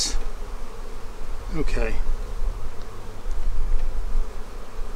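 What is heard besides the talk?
honey bees buzzing during hive inspection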